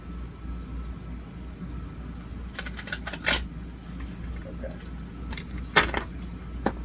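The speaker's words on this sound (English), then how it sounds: "Let's shuffle these out a little bit." Moonology oracle cards being shuffled by hand in a quiet room, a few soft riffling bursts and flicks, close but faint over a low steady hum.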